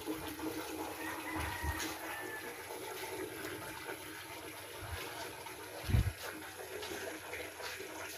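Water pours steadily into a container, a continuous rushing fill with a few soft knocks, faint and at a distance.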